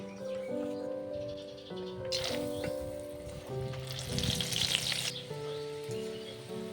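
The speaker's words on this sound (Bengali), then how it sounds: "তেলটা গরম হয়ে গেছে এবার কনগুলোকে ভেজে নেবো" Corn kernels frying in hot oil in a wok for crispy corn, a steady close sizzle and crackle that swells in the middle, with soft stirring rattles and a low background hum.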